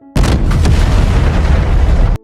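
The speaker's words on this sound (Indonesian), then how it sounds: "pembangkit listriknya meledak" A power plant explodes in a dystopian drama set in 2071, producing one loud, dense, sustained blast lasting about two seconds with a deep rumbling low end, then cutting off abruptly.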